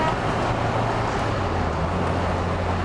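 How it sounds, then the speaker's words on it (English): A 1959 MGA Twin Cam cruising in fourth gear at about 50 mph, with a steady low engine drone and continuous road and wind noise filling the cabin throughout, no talking. "We're in fourth gear right now, going 50 miles per hour with no issues."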